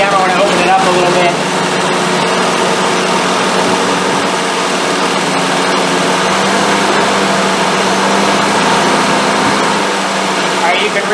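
An SU-carburetted car engine, as on a roundtail restoration, running steadily at high revs: a continuous loud drone holding an even pitch throughout, with faint talk underneath.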